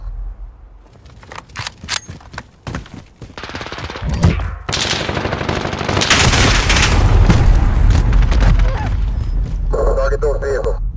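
Rapid video-game weapon fire crackles in loud bursts, building into sustained automatic gunfire with heavy booms, while voices talk over the battle.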